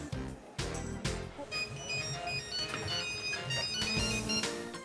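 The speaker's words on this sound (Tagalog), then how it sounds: "Tawagan ko kaya si Janice." A telephone rings while a call is being placed, a steady repeating electronic ring tone with some music-like layered sound, clear and continuous throughout.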